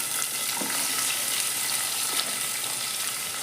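Garlic and onion fry in a pan while cooking kichadi, giving a steady, close sizzling hiss with a few faint clinks and stirring sounds.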